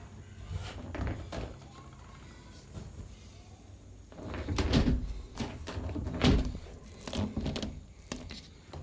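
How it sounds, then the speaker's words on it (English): A door being shut in a cramped room with tiny windows, giving a few dull thuds and knocks amid shuffling and handling noises, fairly close, with someone talking briefly. "Let me close that door."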